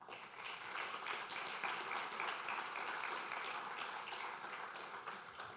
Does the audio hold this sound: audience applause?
yes